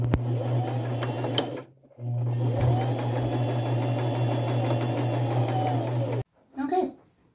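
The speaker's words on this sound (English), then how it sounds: "I'm going to take it to my sewing machine and just go around all the edges" A sewing machine runs a straight stitch with gold thread, sewing appliques onto an old flannel shirt. It whirs steadily in two long close runs with a brief pause between them, then stops as fabric is shifted.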